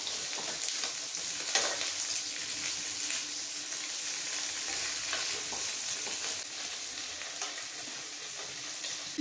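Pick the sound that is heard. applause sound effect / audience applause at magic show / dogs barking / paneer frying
paneer frying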